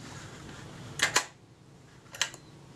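An APM box camera shutter fires on the B setting: one sharp mechanical click pair near the start, then a second after about a second, both close and crisp over quiet room tone.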